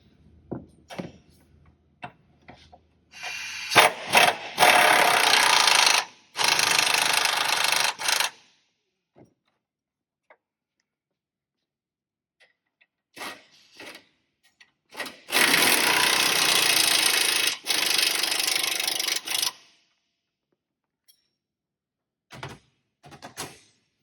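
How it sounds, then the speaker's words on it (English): An impact or power tool runs down the bolts on a 2007 Chevy Suburban rear air shock, two long bursts of loud whirring and rattling each followed by short clicks and knocks, with quiet gaps between. "Then we're going to run down the bolts."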